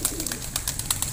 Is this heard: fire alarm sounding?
no